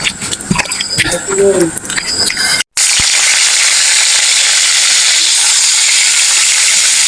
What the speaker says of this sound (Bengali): মাছ তেলে ভাজা হইতে আছে